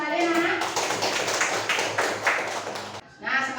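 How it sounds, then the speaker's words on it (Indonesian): Children in a classroom clap their hands at the teacher's request, a lively burst of rhythmic clapping that stops abruptly, with an adult voice speaking at the start and end. "Tepuk tangan lagi sekali anak."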